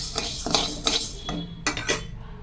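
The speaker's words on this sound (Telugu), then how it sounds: "ఇప్పుడు అదే బౌల్లోకి కందిపప్పు తీసుకుని వేయించాలి." Toor dal being dry-roasted in a bowl, with a utensil scraping and clinking against the metal in irregular bursts, close and fairly loud.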